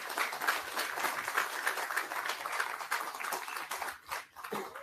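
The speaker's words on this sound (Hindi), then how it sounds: "तालियों के साथ स्वागत करते रहें।" Applause at a federation conference welcoming guests, a dense sustained round of clapping from a large crowd that dips briefly near the end and resumes.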